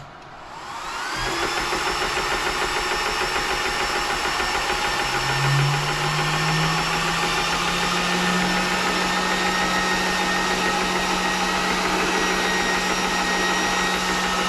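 A GX CS1 PCP air compressor switches on after a quiet second and settles into a steady, loud motor hum with a fan whine, a low tone rising slightly in pitch as it keeps running alone.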